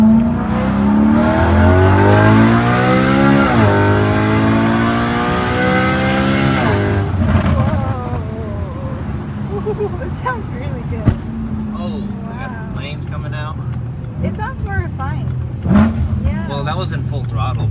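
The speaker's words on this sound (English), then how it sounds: "it does sound a little more refined and a little more higher pitched. Kind of like a race car" A catless BMW E92 M3 with a Valvetronic X-pipe exhaust revs loudly, climbing in pitch through repeated throttle blips over the first seven seconds, then settles into a lower rumble with sharp crackles while a person talks over it.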